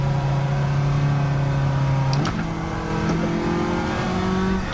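A Toyota S-FR car engine holds a loud, steady high rev under heavy throttle, then the pitch drops and settles into a lower drone, close and continuous with no talking.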